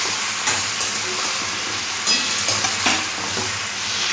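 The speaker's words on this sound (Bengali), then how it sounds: "পেঁয়াজটাও সবজির সাথে ভেজে নেব।" Potatoes, vegetables and onion frying in oil for a Bengali ghonto with hilsa head, pumpkin and pui shak; a steady close sizzle with occasional stirring scrapes, and no talking.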